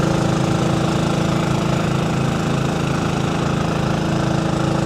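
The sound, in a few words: transfer pump running on milk tanker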